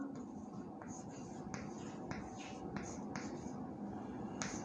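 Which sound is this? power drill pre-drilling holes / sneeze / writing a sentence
writing a sentence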